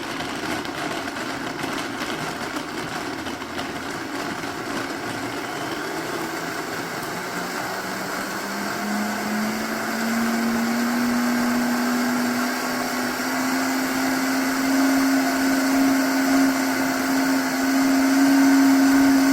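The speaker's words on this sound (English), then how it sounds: "We're ready to blend." Countertop blender whirring through a nut milk smoothie base, a loud continuous motor drone whose pitch climbs and steadies as it spins up, with no talk.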